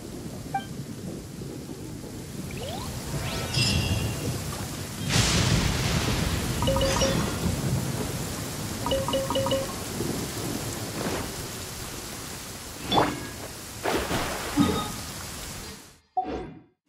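Steady rain falls in the Genshin Impact game world while several thunder rumbles roll in and out, some close and loud, others distant, with no talking.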